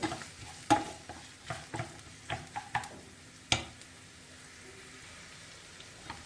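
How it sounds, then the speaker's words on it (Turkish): A large chopped onion stirred in a pot for okra stew, frying with a soft sizzle and several distinct spoon scrapes and knocks against the pot, close and without talk. "Bir büyük boy soğanımı da hemen içerisine koyuyorum. Bunu da karıştırayım."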